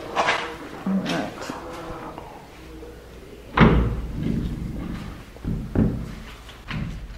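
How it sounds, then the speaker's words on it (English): An old door in a derelict Charleston jail swings and shuts with a heavy thud and rattle, followed by softer knocks and bumps, amid quiet talk nearby. "Do you want to close the door?"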